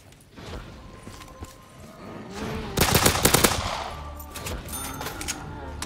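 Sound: pistol gunfire in video game Black Ops 3 zombies

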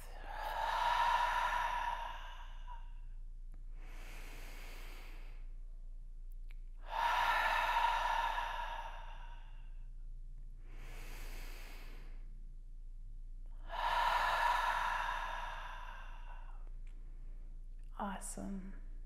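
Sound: deep inhales and exhales through the mouth

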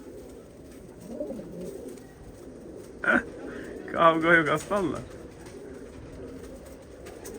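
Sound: paçalı pigeons cooing at a live auction

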